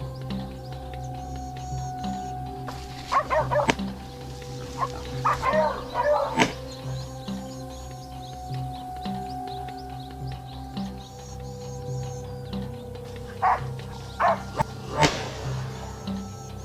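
Hunting dogs bark in scattered bursts while chasing feral hogs through woodland, with some barks near and others distant over a steady low hum, and birds chirping faintly.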